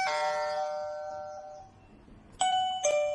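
A wireless M9 Tuya doorbell chime rings when pairing succeeds, a clear multi-tone melody that fades out, then a second bright chime starts near the end, alone in a quiet room.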